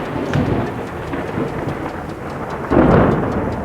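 A thunder and rain sound effect plays loud and near, steady rainfall hissing throughout with deep rumbles rolling under it and a heavier crash near the end.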